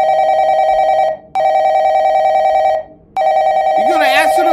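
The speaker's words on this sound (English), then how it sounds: "You gonna answer the phone?" Old-style telephone bell ringing in an indie horror game, two long loud rings separated by short gaps, then a third ring as a voice starts talking over it.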